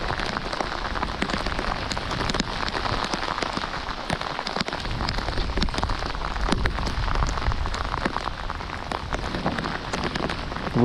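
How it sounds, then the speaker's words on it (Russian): Heavy rain pours down on a lake around a plastic fishing boat, a dense continuous hiss of drops on water and hull with scattered sharper spatters, steady and close throughout with no voices. "переждем этот ливень"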